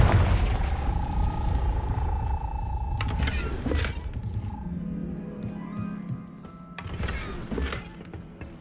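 A Confringo fire spell explodes in Hogwarts Legacy: loud booming bursts with crackling flame, a rising whoosh, and a second blast later over a busy game soundscape.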